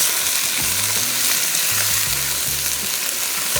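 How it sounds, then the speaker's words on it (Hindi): Bone-in chicken pieces fry lightly in a pan for a Vietnamese chicken curry, giving a steady, dense sizzle that stays even throughout, with faint low tones in the background. "तो इसको थोड़ा सा फ्राई किया पहले,"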